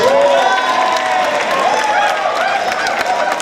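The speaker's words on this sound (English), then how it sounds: "give him a big round of applause one more time for the groom's brother" Guests at a wedding reception applaud and cheer for the groom's brother, a loud, sustained wash of clapping and crowd voices filling the room.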